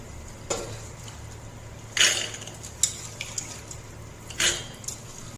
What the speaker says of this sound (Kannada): ನೋಡಿ, ನಾವೀಗ ಕುಕ್ಕರ್ಗೆ ಕಡಲೆನ ಹಾಕ್ಕೊಳ್ಳೋಣ